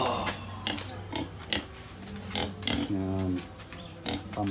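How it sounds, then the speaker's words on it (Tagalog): Native pigs on a farm grunt in a run of short, repeated snorts and oinks at close range, with faint background noise and no clear talk. "native pigs."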